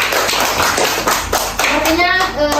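A group of children and adults claps hands in a classroom session, a short burst of scattered, uneven claps at close range, with voices chattering underneath.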